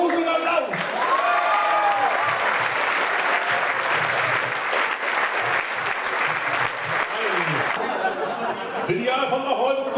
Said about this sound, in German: Und ein tosender Applaus!